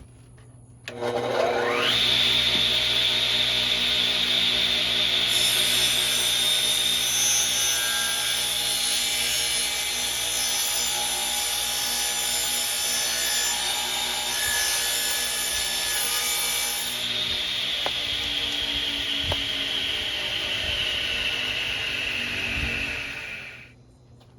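A radial arm saw spins up, then cuts steadily along the edge of a wooden table top for about twenty seconds, with a loud, sustained whine and rough grinding, before winding down.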